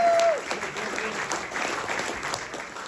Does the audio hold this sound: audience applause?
yes